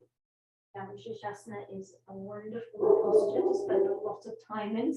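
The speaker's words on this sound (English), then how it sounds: "Sorry about my dog." A pet dog barks and yips intermittently in a room during a yoga class, its calls mixed in under a woman's continuous spoken instruction.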